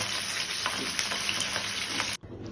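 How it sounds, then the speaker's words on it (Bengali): Pabda fish fry in a pan over a low gas flame, giving a steady close sizzle with faint spatters that cuts off abruptly near the end. "এবার মাছগুলোকে উল্টে আর 1 পিঠ ভালো করে ভেজে"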